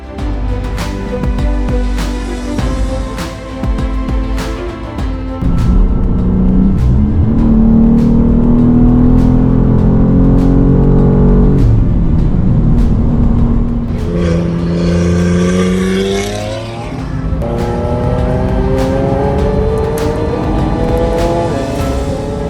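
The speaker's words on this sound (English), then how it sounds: "Oh, the sweet sound of that inline six." A second-generation BMW M2's inline six-cylinder engine revs hard, a loud close continuous roar with rising and falling pitch sweeps as it climbs through the revs.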